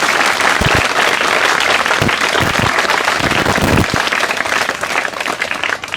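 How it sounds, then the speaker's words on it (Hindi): Village crowd at a Haryana community event applauding girls, loud sustained clapping from many hands with a few heavier thumps, holding steady before easing slightly at the end. "मातृशक्ति के लिए बाकी सारे ताली बजाओ दो"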